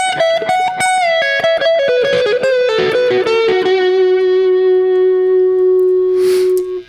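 A fast electric blues guitar solo run of quick picked notes, stepping downward in pitch and settling on a long sustained note that rings out to the end, played alone with no talking.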